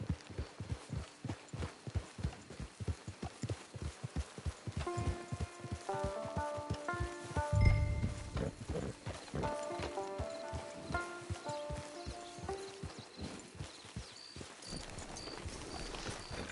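Horse hooves clip-clop at a steady gait in the Western video game Red Dead Redemption 2, with a game music cue rising over them and no talk.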